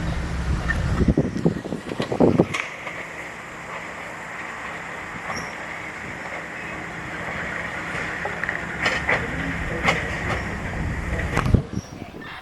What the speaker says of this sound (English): I can see the tail end of the train crawl forward toward the siding